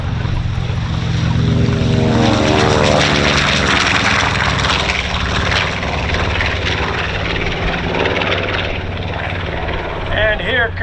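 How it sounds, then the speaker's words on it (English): A C-53 propeller aircraft taking off at a World War II weekend airshow, a loud droning radial-engine roar that builds and sweeps past nearby, then fades, with people talking beneath. "And here comes the C-53."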